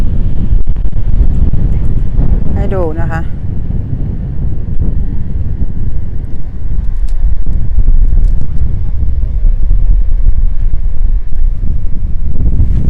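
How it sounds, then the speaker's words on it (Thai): Strong wind near a seaside lighthouse buffets the microphone in a constant loud, low roar throughout, with someone speaking briefly underneath. "ลมค่อนข้างแรงนะคะ"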